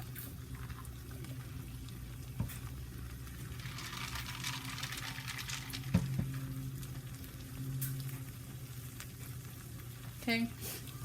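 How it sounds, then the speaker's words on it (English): Steady sizzling and crackling of beans frying in a pan for frijoles con chorizo, with a few clinks and stirring noises over a constant low hum. "I'm gonna let them fry up for a little bit"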